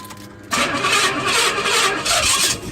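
A 1985 Pontiac Grand Prix with a Pontiac 400 V8 engine cranks briefly and catches, then settles into a loud, steady idle rumble up close.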